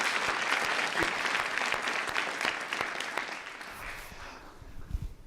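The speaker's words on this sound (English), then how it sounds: "Let's give them one more round of applause." An audience at a youth summit applauds for two presenters, full dense clapping that tapers off in the last second as a few low voices begin to murmur.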